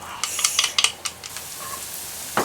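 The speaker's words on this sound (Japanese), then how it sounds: "油を敷いてにんにくを入れます。" Garlic fries in oil in a deep frying pan, with a steady soft sizzle broken by several sharp clinks and stirring scrapes, close up and alone.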